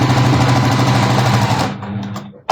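A sewing machine runs fast and close, stitching a seam on a scrappy quilt, a loud steady whirring chatter that stops after about one and a half seconds and leaves quieter handling noise.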